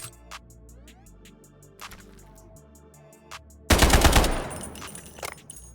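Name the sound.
gunfire with M62 legendary ammo in video game Delta Force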